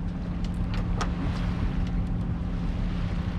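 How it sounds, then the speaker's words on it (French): A sailboat's inboard motor runs steadily at 1500 rpm while motoring across a calm lake, a constant low droning hum with light wind noise on the microphone and faint higher clicks. "Donc le moteur tourne à 1500 tours."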